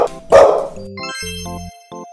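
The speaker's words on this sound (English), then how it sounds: "Dog is old." A single dog bark rings out loud and close near the start, followed by bright electronic musical tones from a children's learning program.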